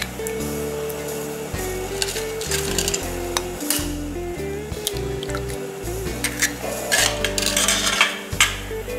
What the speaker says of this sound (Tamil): முதல்ல ரெண்டு முட்டையை உடச்சி ஊற்றிக்கலாம்.